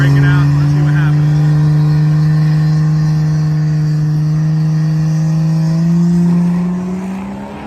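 A ZL1 Camaro street-class drag car runs in a slow street class elimination round, its engine a loud, steady, heavily harmonic drone that holds for several seconds and swells slightly near the end.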